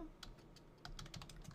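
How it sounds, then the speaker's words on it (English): Rapid, irregular keystrokes on a computer keyboard, close and crisp, with a few slightly louder clacks scattered through and no voices. "I might be bad at typing today."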